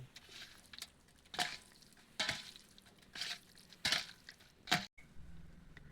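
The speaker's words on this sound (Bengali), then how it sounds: "এরপর এই মশলাগুলি মাংসের সঙ্গে ভালো করে মিশিয়ে নেব।" Raw chicken pieces for KFC-style popcorn chicken being worked together with ground spices such as coriander powder, giving a series of wet, squishy stirring bursts at a steady, unhurried pace, close up with no voices.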